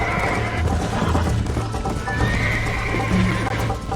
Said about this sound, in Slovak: Prečo ma zhodil ten zasratý kôň?